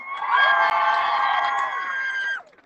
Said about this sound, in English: Can you give Adnan a big round of applause?